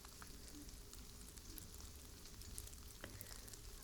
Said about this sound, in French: je vais juste rincer avec de l'eau tiède